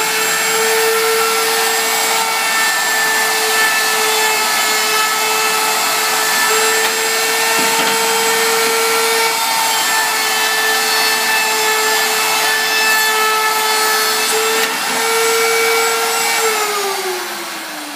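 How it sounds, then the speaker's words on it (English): A wood router rounds over the edges of a board in a school woodshop, its loud, steady high-pitched whine holding constant for many seconds before the pitch sags and winds down at the end. "when I router it, what it does is it puts this nice curved, smooth edge on the side on both ends"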